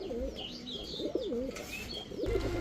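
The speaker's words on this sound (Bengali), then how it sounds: "অনেক বড় সাইজের 1 জোড়া চুয়া চন্দন কবুতর দেখাবো।" A pair of large, deep-coloured Chua Chandan pigeons coo repeatedly in close, rolling bursts, with light chirps and background rustle.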